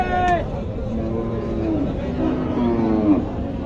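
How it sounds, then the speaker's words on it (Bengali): Nepali cross-breed bullocks at a cattle market low and moo in a few drawn-out, moaning calls close by, over a background of crowd murmur and chatter. "এখানে দেখতেছেন নেপালি জাতের ক্রস বলদ রয়েছে"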